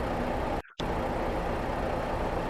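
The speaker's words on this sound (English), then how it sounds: "The sound, the hum of the diesel engine as we sat here" A low, steady diesel truck engine hum idles continuously in the video game American Truck Simulator, briefly cut by a short dropout near the start, with no voices.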